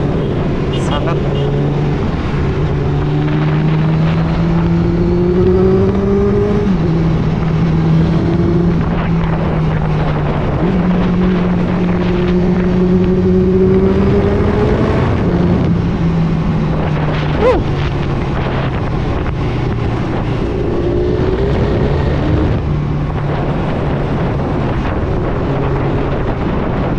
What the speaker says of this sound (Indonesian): Nggak tahu ya kedengeran apa enggak nih suara motornya.